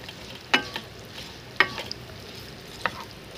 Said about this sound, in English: Now we are going to cook these onions till golden brown. So keep on stirring on medium to high flame.